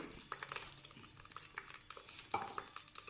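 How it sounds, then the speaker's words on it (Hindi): Aloe vera mixture going into lightly warmed oil in a pan, soft stirring and scraping with faint gentle sizzling and a few clinks of a utensil against the pan, quiet and close. "तेल हमारा जैसे ही हल्का गर्म हुआ है, अब ये अपना सारा मैलूल हम इसमें डाल देंगे"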